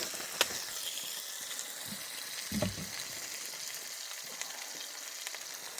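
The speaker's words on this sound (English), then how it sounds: "It's sizzling away nicely." Cooking oil sizzles steadily in a pan at a wild campsite in Scotland, a continuous close frying hiss with a few soft clinks and knocks, no talking.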